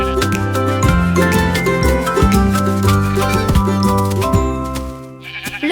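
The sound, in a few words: sheep bleating, a flock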